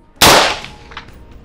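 A single sharp gunshot cracks loudly and close during a target shooting challenge, followed by a short decaying echo and faint after-sounds with no speech.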